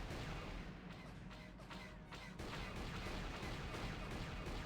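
Rapid, dense blaster fire and explosions from the Star Wars KOTOR video game, a loud continuous barrage of shots and booms without pause and with no talking.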